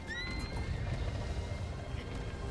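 A horse in Zelda Breath of the Wild gives a sharp, high whinny near the start that trails off, over a low steady game ambience, with faint hoof clatter.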